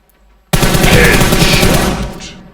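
Loud automatic gunfire in PUBG bursts in suddenly after near silence, a rapid run of shots lasting about two seconds before tapering off.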